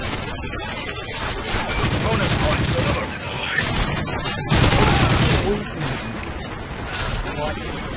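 A sentry gun in an Xbox shooter fires sustained loud automatic bursts, with short pauses and overlapping game explosions and clatter, while a player's voice comes through now and then.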